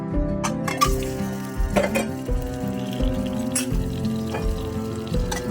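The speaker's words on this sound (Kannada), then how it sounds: "ಎಣ್ಣೆ ಹಾಕೊಳ್ಳೋಣ. ಇದಕ್ಕೆ ಎಗ್ ಹಾಕೊಳ್ಳೋಣ." Eggs hit hot oil in a pan for an egg masala, a hissing sizzle with occasional clatters, played under steady background music.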